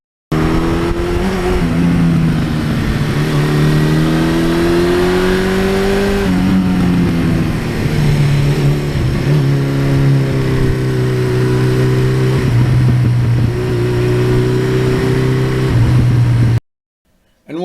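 A 1982 Suzuki GS1100E motorcycle engine revs loud and close, its pitch repeatedly rising and falling in long sustained pulls before cutting out abruptly.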